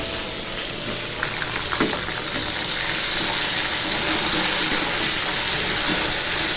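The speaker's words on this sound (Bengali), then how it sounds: "পেঁয়াজটা একটু ভাজতে হবে।" A large onion fries in a pan with vegetables and asafoetida tempering, giving a steady, close sizzling hiss that continues unbroken, with faint clinks from stirring.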